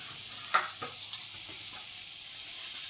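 Slit green chilies drop into hot oil alongside onion for a bean and gourd-peel fry, giving a quiet, steady sizzle with a few soft clinks of stirring near the start.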